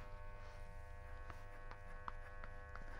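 Electric hair clipper fitted with a number 1 open guard, 3 mm, buzzing steadily with a constant hum while trimming hair, quiet with faint brushing ticks and no talk.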